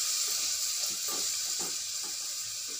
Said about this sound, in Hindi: मसाले को हम अच्छे से चला लेंगे, ताकि मसाला हमारा जो अच्छे से भुन जाए